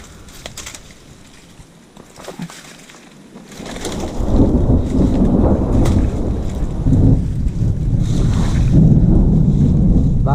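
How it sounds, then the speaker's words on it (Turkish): Heavy rain roars steadily with a low rumbling of thunder, lightning flashing, and gusty wind buffeting the microphone, growing louder partway through on a summer day outdoors. "Şimşek çakmaya başladı arkadaşlar."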